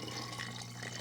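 Water being poured into a container, a faint steady trickle and gurgle of liquid filling, heard briefly alone.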